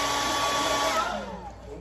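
A hair dryer drying acrylic paint blows steadily with a strong airy whoosh and a thin whine, its pitch sliding downward as it winds off.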